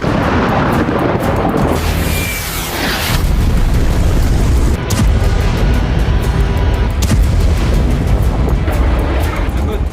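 Loud, dense roaring rumble from destructive bombing in Beirut, Lebanon, continuous and saturated with booming low end and crackling noise throughout.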